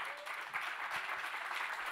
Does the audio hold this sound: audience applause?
yes